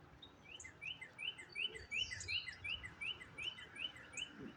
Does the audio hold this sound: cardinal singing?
yes